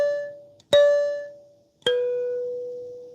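A metal instrument tine is struck twice, each time a clear ringing tone that rises fast and decays, the second strike ringing out longer and lower; close, fairly quiet, with no voices.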